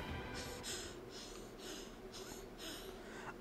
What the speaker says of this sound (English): why I gotta sound like that when I run out of stamina?